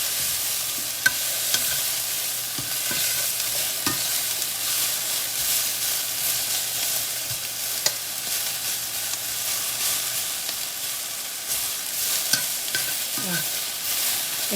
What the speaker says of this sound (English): So just listen to that sizzle.